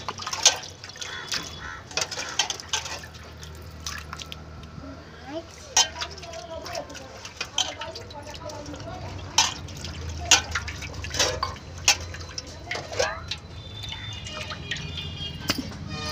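Water splashes and drips as prawns are washed by hand in turmeric water in a bowl, with small clinks and sloshes close by and a voice talking at times.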